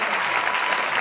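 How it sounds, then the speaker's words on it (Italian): Audience applause for students at the end of a pop music course fills the whole moment as a dense, loud, even burst of clapping. "un grande applauso."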